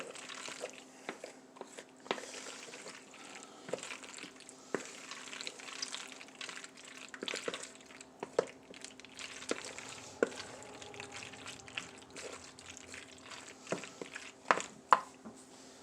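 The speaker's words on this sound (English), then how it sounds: "I'm going to go ahead and stir this up." Stirring deluxe boxed mac and cheese in a pot for tuna casserole: soft, wet, squelching scrapes and light clinks of the spoon repeating irregularly, close but quiet, over a faint steady background hum.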